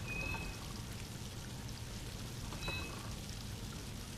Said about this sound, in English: Who keeps flushing toilets?